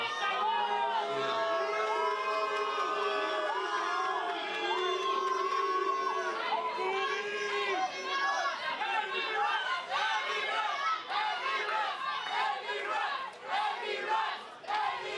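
Wrestling crowd shouting and chanting loudly to drown out a wrestler trying to speak, a steady dense roar of voices throughout.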